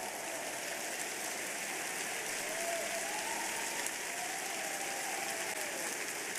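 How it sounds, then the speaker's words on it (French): A church congregation standing and applauding loudly, a steady wash of clapping at a moderate distance, sustained without pause and with no clear speech over it. "Veuillez vous tenir debout et acclamer très fort le Seigneur."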